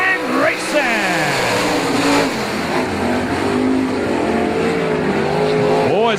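Sprint cars race at Golden Triangle Raceway Park, engines roaring loudly with rising and falling revs as several cars pass close by, while a commentator talks over the noise.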